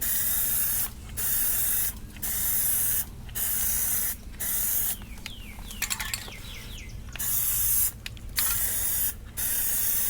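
Plasti Dip coating is sprayed from an aerosol can onto a car interior in repeated hissing bursts about a second each with short pauses between, plus some light clinking mid-sequence, all close by.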